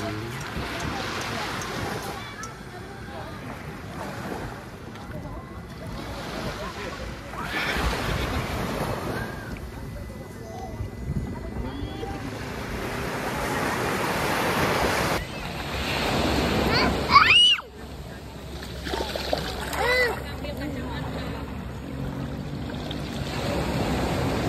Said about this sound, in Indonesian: Lagi di pantai.